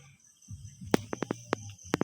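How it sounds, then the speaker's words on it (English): Crickets chirp in short sharp bursts, several clicks spaced irregularly over a low background hum, close and moderately loud with no talking. "Now I see one more cricket."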